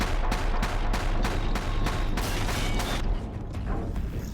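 Rapid rhythmic gunfire from a weapon in the video game Horizon Zero Dawn, a steady run of loud close shots, about three per second, that stops near the end and leaves a quieter rumbling backdrop.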